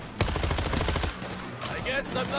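Rapid automatic gunfire in the zombie shooter World War Z Aftermath, set in Rome, a fast close burst of shots lasting about a second, followed by quieter game noises and a brief voice.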